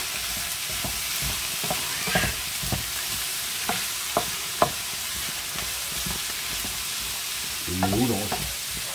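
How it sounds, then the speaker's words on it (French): Shrimp being stirred in a hot frying pan for a Mediterranean-style dish, a continuous sizzle broken by irregular spoon scrapes and taps against the pan, with a brief louder clatter near the end. "Donc là, on mélange."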